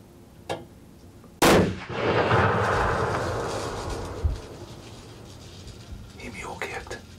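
A single sharp rifle shot cracks out during a deer hunt, loud and close, its echo rolling away across the woods, with a faint click before it and soft whispering afterward.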